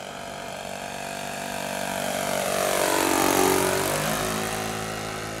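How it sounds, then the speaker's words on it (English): A Goldberg Ultimate 10-300 RC biplane powered by a Magnum XL 15cc engine makes a low flyby, its buzzing propeller drone rising as it nears and pitching down as it passes, loud and steady with no talk. "Another low flyby and then I will land"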